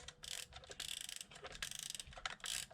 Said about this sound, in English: cock the shutter,